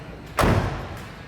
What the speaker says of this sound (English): I'm going to have you listen to the sound of the door as I close it.